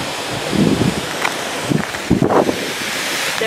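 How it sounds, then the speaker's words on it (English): Steady, loud wind roars and buffets the microphone outdoors, with occasional rustling gusts rising over the constant rush. "you can tell how windy it is"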